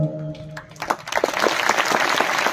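Audience applause at a Marathi poetry recital, starting after a brief sung tone and quickly swelling into dense, steady clapping that fills the rest of the moment.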